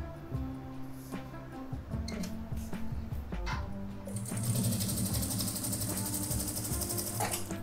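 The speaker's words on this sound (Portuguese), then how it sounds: "Vamos costurar de novo aqui." A domestic sewing machine stitching with fresh white thread after a thread-breaking tension problem: steady rapid mechanical clatter and whir throughout, picking up a brighter, busier texture in the second half, with no talking.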